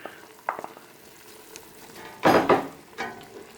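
Sliced green pepper hits a hot pan for pepper steak and fries with bursts of loud sizzling, with scraping stirs and clinks between the louder crackles.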